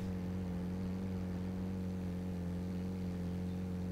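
A car engine in the video game Mission Luftrettung hums at a steady pitch for the whole stretch, even and close, with no talking over it.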